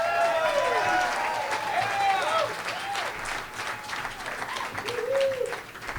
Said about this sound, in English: let's give a round of applause to Marlon Fisher.